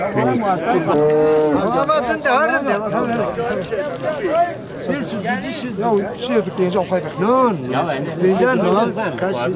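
Cattle at a crowded livestock market in Erzurum, lowing repeatedly in long, loud, nearby moos that overlap one another, with steady chatter and talking from the crowd running underneath throughout.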